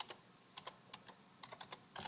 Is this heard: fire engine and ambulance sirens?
no